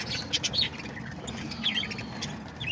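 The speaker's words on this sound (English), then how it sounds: "I got some lovebirds in here with these parakeets" Parakeets and lovebirds in an aviary give out quick, scattered high chirps and tweets, several birds calling close by over a low background murmur, with no talking.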